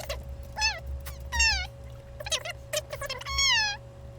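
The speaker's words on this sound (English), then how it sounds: "I just heard meow, meow, meow." A cat meows several times in short, rising and falling calls, fairly close and clear, spaced irregularly over a low background hum with no talking.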